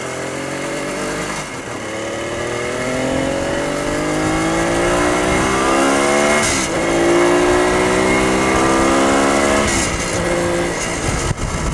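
A motorcycle engine revs up repeatedly through the gears, pitch climbing then dropping with each shift, loud and close throughout with no talking.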